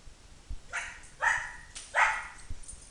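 A dog barks three times in quick succession, fairly close and distinct, with short gaps between barks and no talking.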